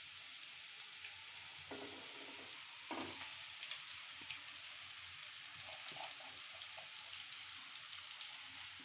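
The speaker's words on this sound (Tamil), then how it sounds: "கொட்டி நல்லா கிளறிக்கலாமுங்க." Flattened rice (aval) is stirred in a pan with sautéed onions and chilies for aval upma, giving a steady soft sizzle with scraping spoon strokes and a few louder clunks, no talking.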